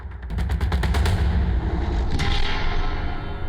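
Gunfire in a crime drama scene: a rapid burst of sharp, close shots in quick succession, then a single louder report, over a heavy low rumbling background.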